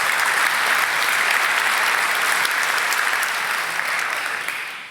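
Sustained applause from a conference audience after a talk on parsing PHP, a dense, steady wash of many hands clapping together that holds at full loudness for several seconds and then begins to taper off near the end.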